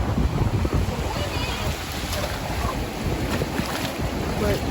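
Wind blows hard across the microphone on a cold beach, a continuous close rumbling buffet with faint surf beneath, while people talk quietly in the background.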